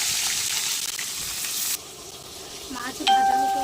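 Fish frying in hot oil gives a steady, fairly loud sizzle that drops suddenly midway, followed by faint scraping and a brief tonal ring near the end.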